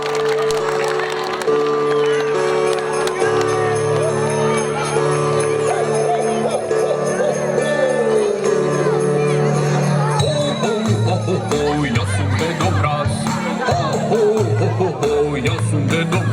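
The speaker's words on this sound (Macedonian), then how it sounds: "дајте еден аплауз за нашиот драг и сакан Дедо Мраз" A village New Year's party audience at a school in Mislesevo claps and cheers for Santa Claus (Dedo Mraz), a steady, dense crowd roar lasting throughout with babble and shouts mixed in, while music plays underneath.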